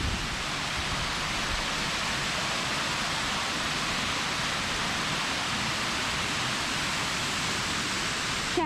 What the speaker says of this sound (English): But this must be waterfall number 2.